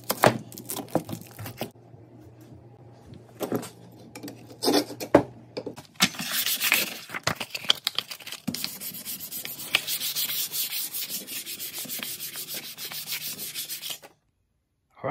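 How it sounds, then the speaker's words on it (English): An old axe is sanded down by hand in a series of gritty rubbing strokes, with brief pauses between bursts and a longer, steadier stretch of scraping toward the end, close and fairly quiet. "then I'm gonna sand this all down"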